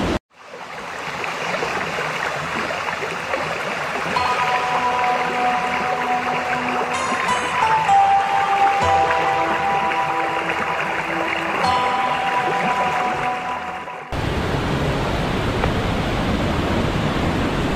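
Usri waterfall in Giridih, Jharkhand, pours with a steady, loud, broad roar that never breaks, heard near and unbroken, with a sudden shift in tone near the end.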